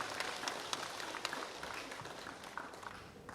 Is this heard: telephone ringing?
no